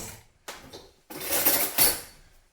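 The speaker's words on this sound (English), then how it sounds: "we've got the cream cheese, which I really should cut up before I put it in there so it mixes easier" Cream cheese being cut up for cake icing: a few sharp clinks and scrapes of a utensil against a dish, with short pauses between them, close by and without speech.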